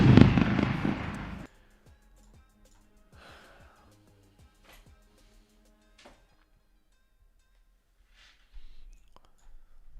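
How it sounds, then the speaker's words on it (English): Loud fireworks burst at the start during a trading-win celebration, a dense crackling blast lasting about a second and a half, then near silence with scattered faint clicks and a few soft breaths or murmurs toward the end. "Firework bust."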